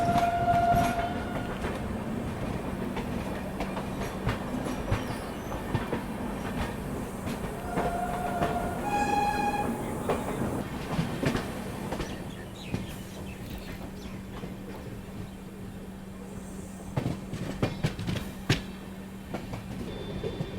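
The Tirukkural Express passes hauled by a Kalyan-based WAP7 electric locomotive, a steady rumble of rail cars rolling by for about twenty seconds with clicking wheel beats and a short two-tone horn sounding early on.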